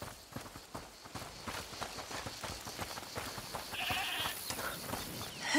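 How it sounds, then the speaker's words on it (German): Goat bleats sound faintly in the video game A Plague Tale: Requiem, set against a quiet ambient bed with soft footsteps and scattered rustling throughout. "Hört mal, ist das die Ziege, die er meinte?"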